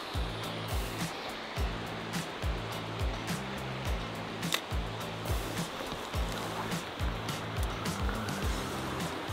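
River water rushing steadily over shallows where a trout angler wades and casts, a continuous broadband flow with no talk.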